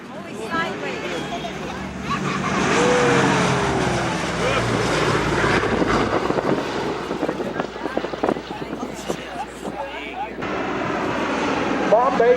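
A Boeing B-17 bomber drones past with a broad, loud engine roar that builds and holds, mixed with wind noise and crowd chatter as people talk over it.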